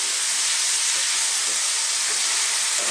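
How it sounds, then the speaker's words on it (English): Beef browns in a hot pan for an Italian stew (spezzatino di manzo), giving off a steady, loud, unbroken sizzling hiss with no talking. "We're just browning it off now."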